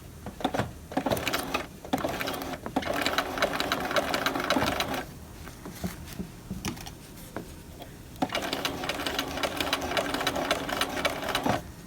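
Sewing machine running short stitches along a collar: rapid mechanical whirring in bursts, pausing briefly twice before resuming, close and steady.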